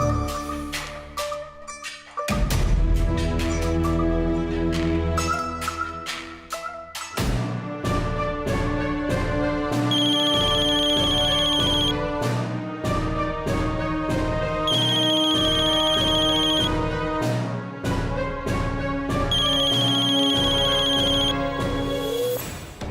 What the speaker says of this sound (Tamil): யார் போன் பண்ணது?